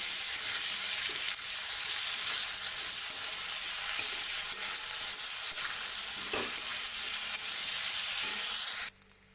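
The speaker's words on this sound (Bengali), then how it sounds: "আমি ডিমগুলোকে একটু ভালো করে ভেজে নেব" Eggs frying in oil in a pan, a steady loud sizzle with stirring that runs continuously for about nine seconds before cutting off abruptly near the end.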